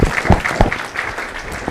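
A conference audience gives a short burst of clapping for the session speakers, a scattered round of applause that fades quickly.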